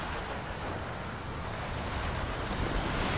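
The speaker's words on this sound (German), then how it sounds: "Dieser Wind ist Wahnsinn." Strong wind howls across a mountainside in Rise of the Tomb Raider, a loud, steady gusting roar that fills the scene without a break.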